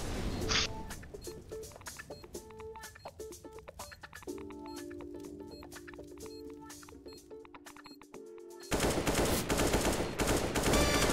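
Rapid bursts of gunfire in CS:GO on the Train map crackle sharply and repeatedly, followed by a sustained tone and then a dense, louder stretch of shooting toward the end.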